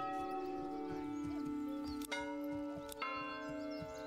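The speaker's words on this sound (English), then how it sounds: "Church bell." A church bell rings in the medieval game Manor Lords, sustained tolling tones with a couple of sharp strikes, heard over light background clip-clop and village ambience.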